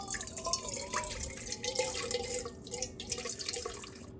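Warm water runs and drips into a bowl for sourdough pepperoni pizza dough, a steady close trickle with small splashes throughout, no talk.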